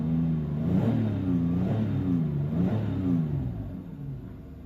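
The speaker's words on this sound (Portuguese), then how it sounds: "Uma delícia esse motor V6 Busso aqui." An Alfa Romeo Busso V6 engine in a 215-horsepower sedan revs up and down several times in smooth, rising and falling sweeps, close by and steady in loudness.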